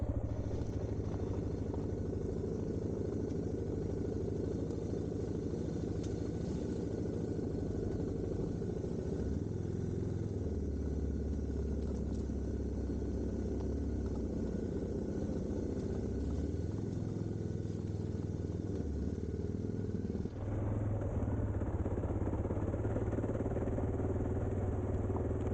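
Adventure motorcycle engine droning steadily while riding a road with light debris, a continuous loud mid-pitched hum with wind rush and small shifts in tone, no voices.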